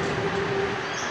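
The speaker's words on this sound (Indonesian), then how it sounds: "Oke, kita naik kereta sekarang" A museum mine train ride at Tanjung Enim pulling away, with a steady, loud rumble of wheels and carriages and a faint whining tone running throughout.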